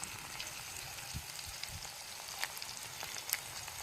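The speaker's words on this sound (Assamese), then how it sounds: "তাৰপিছত মই লাহেকৈ আলুটো ঢালি দিম।" Potatoes sizzling in hot oil in a home kitchen pan while lunch is cooked, a constant crackling hiss with occasional louder pops and spits, close by and without talk.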